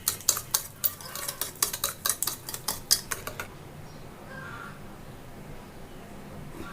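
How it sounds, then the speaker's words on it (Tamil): Brownie batter mixed with oil in a bowl, a utensil scraping and clinking in a quick, irregular stirring rhythm for a few seconds, then stopping to quiet room tone. "இதை வந்து நல்லா மிக்ஸ் பண்ணி விட்டுடலாம்."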